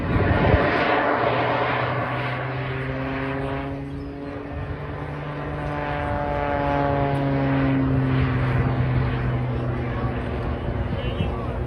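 A propeller aircraft performing aerobatics at the Blackpool air show in 2024 sends out a sustained droning engine note whose pitch slowly rises and falls, with a commentator talking over it throughout.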